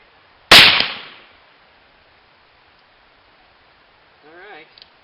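A single loud, sharp shot from an 1858 Pietta black powder pistol at an outdoor benchrest, the crack dying out over about a second, followed by a brief voice.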